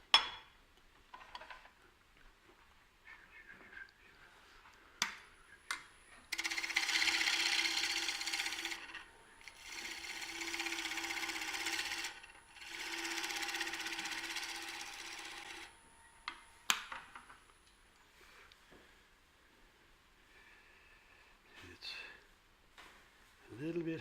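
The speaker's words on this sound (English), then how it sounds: "So I'll do a little shear scraping." A shear scraper works a cheap pine bowl spinning on a wood lathe, producing three bursts of steady hissing, scraping whir of a few seconds each, framed by someone talking quietly and light tool clatter.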